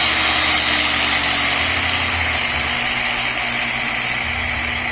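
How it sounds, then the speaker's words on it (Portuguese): A small electric motor under dimmer control hums steadily and loudly, its low drone shifting in pitch as the voltage is reduced and the rotation slows, with no speech. "E a rotação do motor também está baixando."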